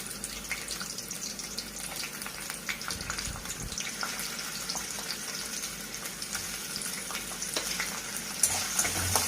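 Cashews, ginger and garlic fry in a pan for a restaurant-style paneer curry, a steady close hiss and crackle with faint stirring scrapes, swelling slightly louder toward the end.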